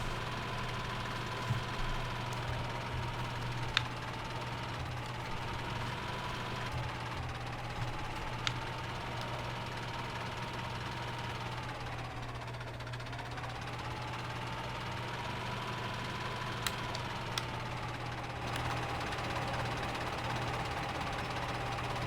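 A tractor engine with a gearbox mod in the Farming Simulator 17 video game, a loud, continuous droning hum whose pitch dips and rises gently as revs shift, with no voices.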